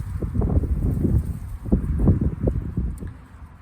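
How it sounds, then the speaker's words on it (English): Gusty wind buffets an outdoor microphone, producing loud, low rumbling thumps that swell and fade in uneven bursts, with no talking. "The wind."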